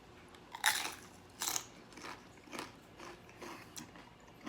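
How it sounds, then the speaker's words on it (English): Crunchy chips dipped in homemade cheese dip are bitten and chewed close to the mic, giving about seven crisp crunches spaced roughly half a second apart, the first few loudest. "I wonder if these chips are crunchy."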